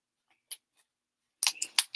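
Scissors cut open a plastic package holding a card-making kit: a couple of faint snips, then a quick burst of close, crisp cutting and crinkling.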